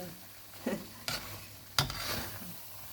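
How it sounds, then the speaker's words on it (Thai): Food is stirred in a pan over low heat, with a soft continuous sizzle broken by a few sharp scrapes and clacks of the utensil against the pan. "คั่วไปเรื่อยๆ ผัดไปเรื่อยๆ จะไฟอ่อนๆเดือดเบาๆหอมกรุน"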